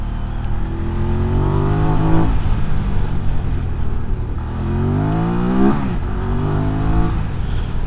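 A QJ Motor motorcycle engine pulls uphill, its revs rising and falling through gear changes in a loud, close, continuous drone with no talk.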